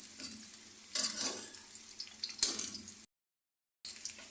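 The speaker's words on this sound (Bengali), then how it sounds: "পেঁয়াজটা একটু ভেজে নিই।" Onion frying in a pan for a fish curry, a soft continuous sizzling hiss with a couple of faint stirring knocks and a brief cut to silence near the end.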